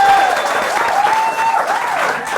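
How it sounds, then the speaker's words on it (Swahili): Studio audience applause welcoming two guests on a Kenyan talk show, a dense burst of clapping throughout with a faint whistle or cheer tone riding above it. "Wapi makofi yao?"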